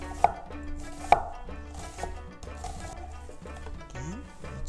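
A knife slices half an onion on a cutting board while making Korean royal tteokbokki, with two sharp, close chops standing out and softer cutting between them over a steady tonal background.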